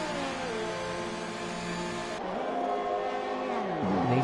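A race car in the F1 2021 video game entering the pit lane, its engine note droning steadily and then dropping in pitch as it slows, heard alone without commentary.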